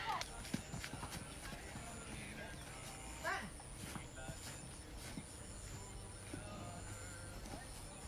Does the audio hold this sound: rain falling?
no